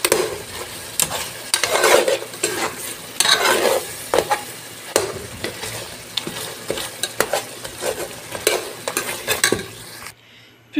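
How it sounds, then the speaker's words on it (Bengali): Rohu fish pieces stirred in a hot pan after lifting the lid, a spoon scraping and clattering over steady frying sizzle, loud and close, in repeated strokes with no voice; the sizzle drops away abruptly at the end. "আমি ঢাকনাটা তুলে নাড়া দিয়ে দিচ্ছি, দেখতে পাচ্ছেন মাছ সিদ্ধ হয়ে গিয়েছে"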